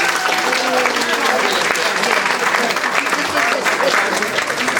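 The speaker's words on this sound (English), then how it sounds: "let's give Kathy another big round of applause." Audience at a Virginia restaurant ketchup recipe contest program gives loud, dense, sustained applause with a crowd murmur throughout, filling the whole stretch without letting up.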